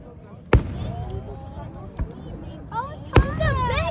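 Fourth of July fireworks burst in two sharp, booming explosions outdoors, with crackling and whistling between them as people talk excitedly nearby.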